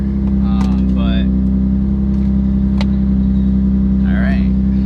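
An Infiniti G35 with a loud custom exhaust idles or cruises with a steady, deep droning rumble throughout, close and loud, with a few brief squeaks over it.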